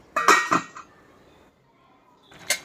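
A lid goes onto a pot of mixed vegetable curry with a couple of quick metallic clanks close by, then a short quiet pause before another sharp clink.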